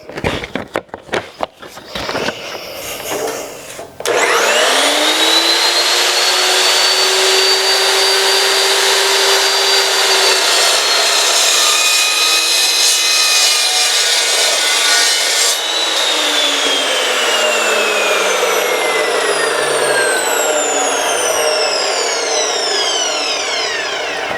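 A loud metal-cutting mitre saw spins up and bites through metal with a harsh, grinding screech, then the blade winds down with a descending whine.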